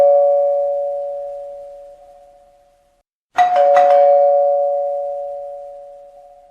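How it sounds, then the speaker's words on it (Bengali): A doorbell rings downstairs, a sustained two-tone chime fading away, then a second ding-dong strikes and rings on loudly, with no voices over it. "নিচে কলিং বেলটা বেজে ওঠে"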